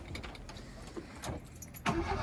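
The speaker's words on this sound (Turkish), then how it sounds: "Şimdi Ahmet arabayı çalıştırıyor." Inside a Tofaş car, keys jangle and the engine cranks and catches near the end of a short, noisy stretch, with a brief rising whir of the starter.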